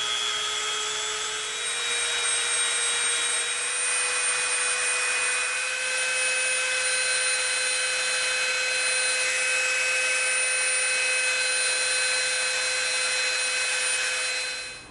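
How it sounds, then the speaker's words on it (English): A Dremel rotary tool whines steadily for about fifteen seconds as it rounds over the edges of small EVA foam knife pieces, a loud continuous high-pitched grind with no talking. "we're gonna slightly round them over, okay? So we're gonna use our Dremel."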